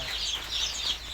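Young chicks on a poultry farm, a chorus of high peeping calls overlapping continuously, moderately close with no talk.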